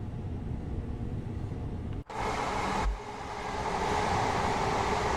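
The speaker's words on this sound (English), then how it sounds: "It's not the fastest accelerating train on the planet." A Class 377/2 Electrostar electric train in Train Sim World 5 hums and rumbles, building gradually after a brief dropout, the motor tone rising slowly as it picks up speed.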